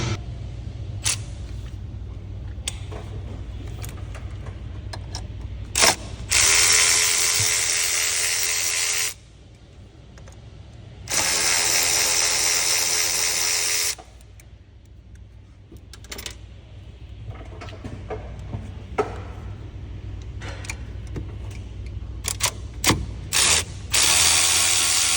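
A hand ratchet on a wobble extension clicks away at E10 Torx bolts on the noise silencer of a Mercedes Sprinter 3.0L 642 diesel, two long steady runs of close, crisp pawl clicking separated by quieter handling noises.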